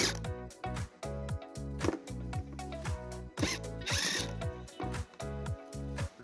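A power ratchet runs in quick repeated bursts to back out a 10mm bolt on a 2011-2019 Subaru Outback, each whirring spin cut off sharply, with close clicks between the bursts.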